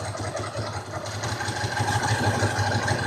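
A Ducati motorcycle engine idles low and steady with a rough, throbbing pulse, close by and continuous with no talk.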